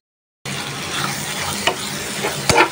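Salted hilsa with spices sautéing in a pan for a pumpkin-greens bhorta, a steady close sizzle with a few sharp stirring scrapes and clicks, no talking.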